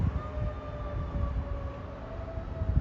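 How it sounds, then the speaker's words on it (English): A faint, steady wailing siren drones in the distance over low rumbling background noise on a main street in Amsterdam, holding a sustained tone throughout. "Signal the sirens."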